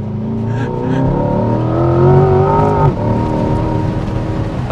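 A Chevrolet Corvette C8 V8 accelerates hard from 0 to 100: a loud, close engine note climbs steadily in pitch, drops briefly at a gear change near the end, then pulls on, with no talking.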